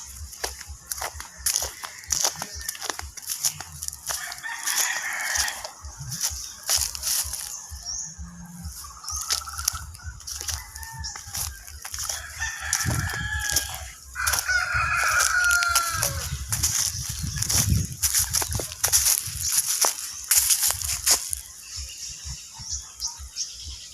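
Chickens and roosters at a chicken farm, with repeated loud crowing and clucking from several birds spread across the yard, some near and some farther off, over a steady rustling background.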